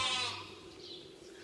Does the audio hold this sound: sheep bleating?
yes